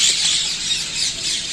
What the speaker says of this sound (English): Look, there are lots of birds